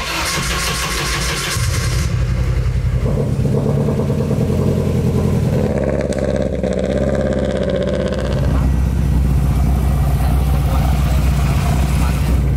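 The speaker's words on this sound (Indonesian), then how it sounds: "Nah, ini sekarang mobilnya sudah bisa idle dengan enak." A car engine with a high-lift cam runs at a loud, choppy, lumpy idle, blipping briefly midway before settling back. It stays close and steady, with voices talking over it.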